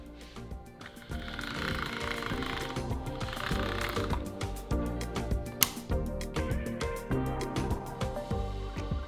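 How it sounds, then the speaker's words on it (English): Fresh pasta dough being made into fettuccine feeds through a hand-cranked pasta roller machine, giving a close, continuous mechanical whirring and clicking with one sharp knock partway through. "before each pass through the pasta roller, we simply reduce the thickness of the roller by moving the wheel one notch"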